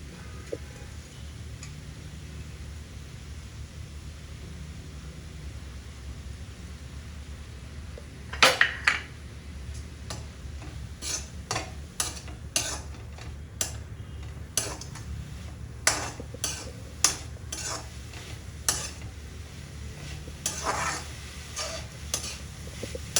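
Grated coconut gets stirred into agathi greens cooking in a pan, with a faint sizzle throughout and scattered light clicks and scrapes of a spoon against the pan.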